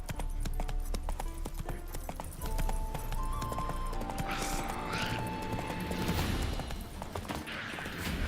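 Roach the horse in The Witcher 3 trotting, with a steady clip-clop of hooves close by, along with clinking tack and a brief whinny-like cry, over a low game background.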